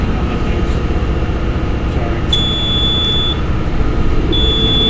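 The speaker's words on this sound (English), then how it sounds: "That's fire alarm. It's a fire alarm." A shrill electronic fire alarm tone sounds in steady stretches over loud, constant machinery rumble in a ship's engine room.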